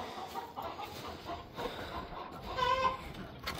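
Quiet chickens cluck and murmur intermittently in the background, with one slightly louder squawk near the end.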